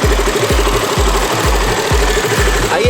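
Fuel-injected 2020 KTM Duke 200 single-cylinder motorcycle engine running, a steady loud idle thump with regular pulses about twice a second over a buzzing mechanical drone.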